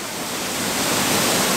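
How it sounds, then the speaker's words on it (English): Cascada Urlătoare, the Screaming Waterfall in Romania, roars as a loud, continuous broadband rush of falling water, steady and close. "here it is. The waterfall."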